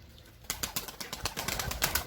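Pigeons burst into flight after a brief quiet moment, a rapid flurry of close wing flaps and fluttering that continues steadily to the end.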